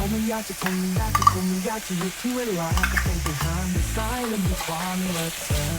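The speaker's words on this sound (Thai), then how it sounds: "ครับเราจะทำการเซียในกระทะก่อนนะครับ ให้เนื้อสุกนะครับ" Beef searing in a hot wok, loud continuous sizzling with frequent scraping stirs and clanks of the spatula against the metal.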